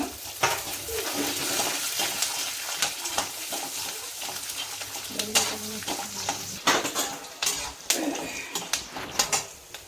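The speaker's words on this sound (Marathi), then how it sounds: "आणि आपण हे काजू बदाम ते टाकून, भोपळ्याच्या बिया, बदाम, थोडेसे शेंगदाणे सगळं टाकून चांगलं परतून घ्यायचं" Cashews, almonds, pumpkin seeds and peanuts being roasted with curry leaves in a pan for makhana chivda: a steady scraping stir with light sizzling and clinks of spoon on metal, continuous and close, with no talking.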